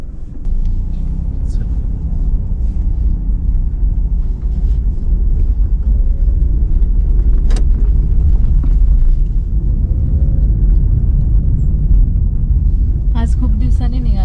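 A car drives along with a steady low engine and road rumble throughout, with occasional light clicks and wind buffeting on top.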